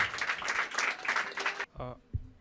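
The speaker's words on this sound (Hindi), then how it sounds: "तो जोरदार तालियों से स्वागत करते हैं" Applause from an open mic audience fills the first part with dense clapping from a small crowd, then stops abruptly as a speaker's voice begins.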